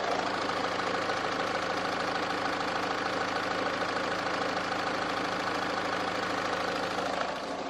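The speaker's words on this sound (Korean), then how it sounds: "이 차량 엔진 소리 한번 들려드릴게요" Range Rover Evoque 2.2 SD4 diesel engine, a 2012 model, idles with the bonnet open, a steady even rumble with a faint clatter, close and constant throughout.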